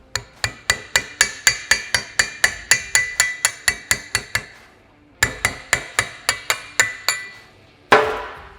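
Steady run of sharp metallic hammer taps driving a bushing out of an ATV A-arm through an extension on a Kawasaki Teryx KRX 1000, about twenty even strikes, a short pause, then another burst, close and loud.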